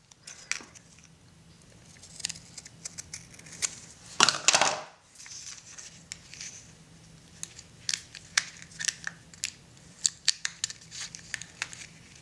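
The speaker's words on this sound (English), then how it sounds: "Sometimes with these you have to trim them a little bit too." Scissors trim a small paper tab for a December scrapbook page, sounding as quiet close snips and paper rustles with one louder crinkling burst.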